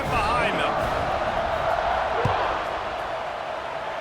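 Stadium crowd roaring at kickoff in the College Football 26 video game, a steady, dense wash of cheering that holds loud throughout, with an announcer's voice talking over it.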